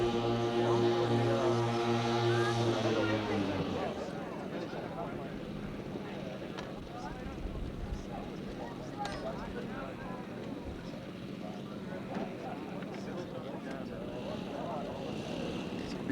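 A 76-pound B-17 model bomber with a 13-foot wingspan flies at a 1991 fly-in, its engines a droning, distant buzz with strong harmonic hum at first, then fading into wind and crowd murmur.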